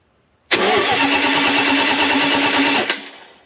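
A Mopar small-block V8 engine on a run stand cranks briefly, catches and roars to life, running loud and steady for a couple of seconds before cutting off.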